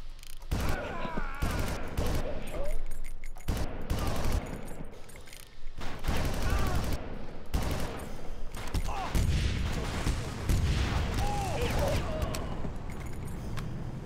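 Rapid gunfire crackles in bursts through a Far Cry firefight on medium difficulty, with heavier blasts that could be rocket launcher fire. The shots are loud and close and come in clusters separated by brief pauses.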